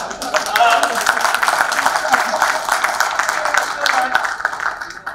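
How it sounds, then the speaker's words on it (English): Audience applause at a memorial lecture in Ahmedabad, a steady dense clapping from many hands that fills the room for several seconds at full strength, with no voices over it. "too early this clapping"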